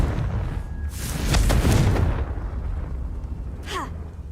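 A Confringo blasting spell cast in Hogwarts Legacy, a deep rumbling blast that swells and fades over a couple of seconds, then a short whooshing sweep of magic toward the end.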